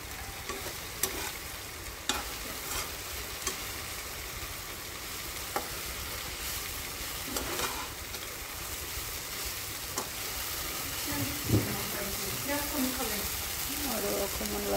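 Food fries in a pan with a continuous crackling sizzle while a utensil stirs it with scattered light scrapes and taps, a voice faintly audible underneath.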